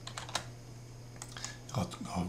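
A few sharp key taps on a computer keyboard entering a rotate shortcut and space bar in CAD software, close and clicky, with a steady hum and some soft background noise.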